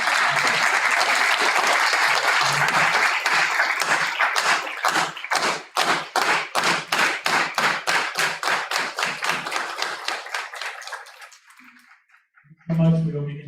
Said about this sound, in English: Please give our panelists another round of applause.